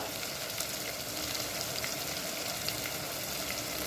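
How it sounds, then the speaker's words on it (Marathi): Dry spices and coriander powder sizzle in a frying pan over tomatoes cooked down for a vegetable dish, a soft, steady crackle and hiss close by with no talk. "आता मी सुकी मसाले टाकते धनिया पावडर टाकले एक चमचा"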